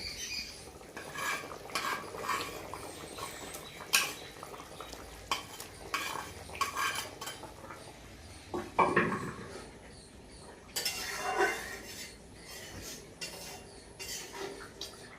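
Cut vegetables go into a simmering rohu fish curry with drumsticks, potato and tomato and are stirred in the pot, a ladle scraping and clinking against the metal in scattered strokes under a soft bubbling background.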